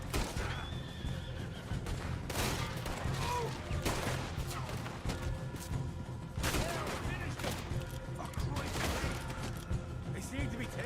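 Gunfire in a Red Dead Redemption 2 shootout, with sharp shots scattered among loud horse neighs and whinnies over a busy, dense game soundscape, with voices mixed in.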